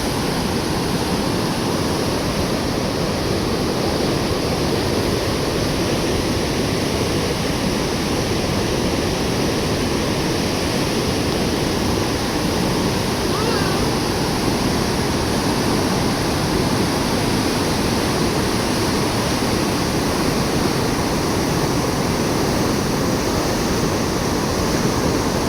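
Loud, steady roar of water rushing through the Erode barrage on a river at Vendipalayam, a continuous broadband wash with no breaks, close by and filling the whole scene.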